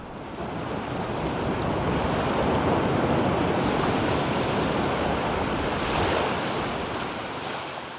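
Ocean waves break against Chotdae Rock on the Donghae coast in a steady, loud wash of surf that swells and recedes, with a heavier surge partway through.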